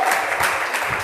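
Brief burst of congregation clapping during a Hindi-language church service, dense and close with uneven rhythm.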